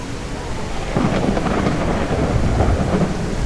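Thunder rumbles low and rolling beneath steady, dense rainfall in the Mist Survival video game, a continuous loud wash of storm noise with no voices.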